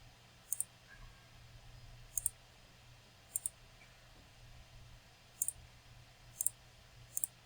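A computer mouse clicks in quick double clicks, six sharp pairs spaced irregularly over a quiet room hum.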